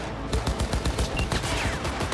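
Rapid gunfire in Cyberpunk 2077 Phantom Liberty, a dense fusillade of overlapping shots with sharp repeated cracks, loud and close, with no talking.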